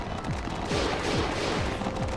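Rapid Blue Blaster energy attacks fire repeatedly in the Digimon All Star Rumble fighting game, a dense crackling burst of loud blasts with periodic descending whooshes, continuous and close.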